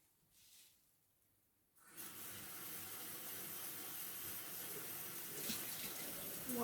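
Water runs steadily from a tap while washing with a sponge, a soft, continuous faint splashing that starts after a quiet moment and keeps going.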